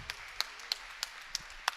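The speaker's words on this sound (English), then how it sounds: "you're going to hear some clapping" A crowd at a men's volleyball game claps in a slow, even rhythm, six sharp distinct claps ringing in a large gym, fairly faint over a quiet background.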